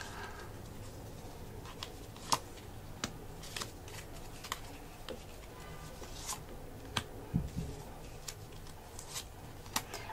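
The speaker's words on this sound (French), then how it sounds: "je les superpose un petit peu pour qu'on ait de la place" Playing cards are laid down one by one and overlapped on a table, giving sparse, sharp close-up snaps and soft pats at irregular intervals against quiet background.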